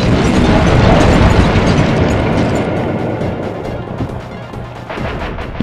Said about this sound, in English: My missiles don't hurt him but seem to create holes in his armor.